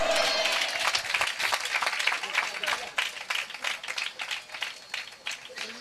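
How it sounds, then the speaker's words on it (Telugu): Church congregation claps along during a pastor's sermon in Alamuru, a brisk burst of many hands that starts dense and thins into scattered claps, with a voice talking over it at the start. "కొట్టండి చప్పట్లు."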